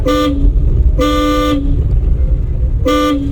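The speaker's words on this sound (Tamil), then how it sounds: "ஹார்ன் அடிக்கணும்." A car horn honks three times during a driving lesson, two short blasts and one longer, loud and close over a low engine rumble.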